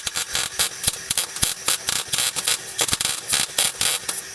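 MIG welder with shielding gas on, welding steel for steering stops on a 1967 Nova; close, loud crackling buzz in rapid irregular bursts, continuous with no talking.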